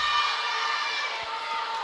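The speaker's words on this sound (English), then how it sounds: "Here comes that immense crowd support with the Here We Go Dartmouth chant" A large crowd at a Dartmouth High School girls volleyball game against Westborough roars and chants in unison, a sustained dense wash of voices filling the gym, with a faint thud or two beneath.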